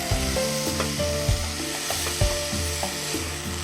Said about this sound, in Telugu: సో నేతిలో బాగా వేయించుకోవాలి.